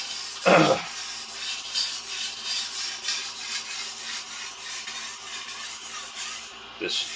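A vintage 14-inch Ontario chef knife is drawn across a sharpening stone in steady, repeated rasping strokes that form a continuous gritty scrape, with a couple of louder thumps near the start and end.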